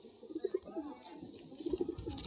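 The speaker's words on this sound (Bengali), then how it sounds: "পায়রা ছেড়ে দেখাচ্ছে" Pigeons coo softly in short repeated bursts after being released, faint and close, with light background noise.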